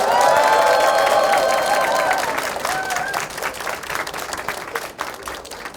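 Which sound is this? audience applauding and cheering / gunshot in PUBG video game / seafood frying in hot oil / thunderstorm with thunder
audience applauding and cheering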